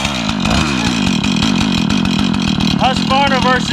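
Husqvarna chainsaw engine running steadily and loud up close, with a buzzing idle and a few brief rises in pitch.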